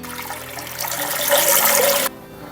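Water pours from a tap into a pan beneath a pot in a kitchen while preparing Georgian tobacco chicken, a close, steady gushing splash that swells and then cuts off abruptly near the end.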